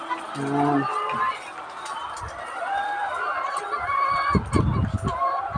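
Chickens clucking and squawking nearby, with a person talking over the birds in an outdoor farm setting.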